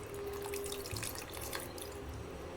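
Water streams steadily into a pan, a continuous splashing pour with a faint hum beneath it.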